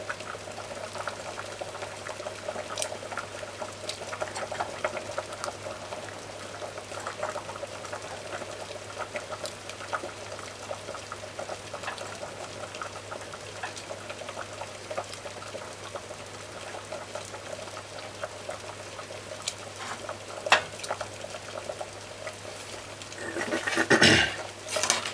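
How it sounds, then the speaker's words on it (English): Chicken foot stew peas bubble in a covered pot, a quiet, steady simmer with faint popping and gurgling, plus a brief clatter of the lid or pot near the end. "So you just cover this and allow it to boil."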